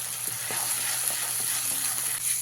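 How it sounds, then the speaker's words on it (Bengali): Onion paste fries in a pan over a high gas flame for a Bengali katla fish curry, a steady close sizzle with intermittent soft stirring scrapes and no talk. "এই পেঁয়াজ বাটাটা দেওয়ার পরে গ্যাসের ফ্লেমটাকে একদম হাইতে দিয়ে ভালো করে পেঁয়াজটাকে ভেজে নিতে হবে"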